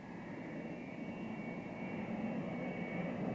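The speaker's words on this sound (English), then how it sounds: "as the jets form up for takeoff" De Havilland Sea Venom jets of the RAN form up for takeoff, their engines giving a faint, steady distant whine and rumble that holds throughout with no voices.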